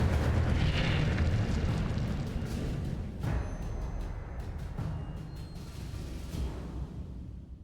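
The Incendio fire spell in Hogwarts Legacy bursts out as a loud, roaring whoosh of flame that rumbles on and slowly fades, with a sharp crackle partway through.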